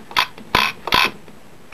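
The steering wheel mechanism of a Spektrum DX3c radio transmitter being turned, giving three loud close ratcheting clicks with short creaky pauses between them and a fainter tick at the end.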